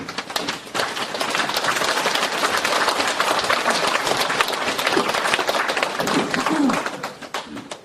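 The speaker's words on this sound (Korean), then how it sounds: "큰 박수 부탁드립니다." A lecture audience at a humanities forum breaks into continuous applause welcoming a guest speaker, a dense, even crackle of many hands that thins slightly toward the end.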